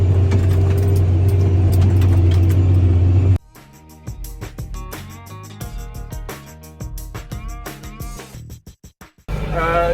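A tractor pulling a vibroculteur cultivator across a field: a loud, steady engine drone opens the clip, then gives way to quieter, uneven rattling and knocking before the engine noise returns at the end.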